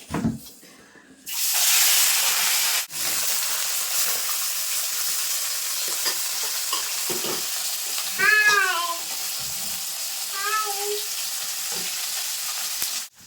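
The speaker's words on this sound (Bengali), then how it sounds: "ছোটো মাছ ভাজার জন্য অবশ্যই কিন্তু খুব ভালোভাবে গরম করে দিতে হবে এখন মাছগুলো দিয়ে দেবো" Small chela fish hit hot oil in a wok with a sudden loud, sustained sizzle that stays steady, broken by a few clattering stirs and a couple of short high squeaks.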